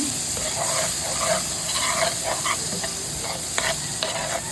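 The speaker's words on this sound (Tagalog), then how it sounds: "magigisa ako ng butter. Ayan, butter at saka garlic. At saka, syempre, may onion siya." Butter, garlic and onion sautéing in a pan, a steady close sizzle with scraping stirs and small clicks of a utensil throughout.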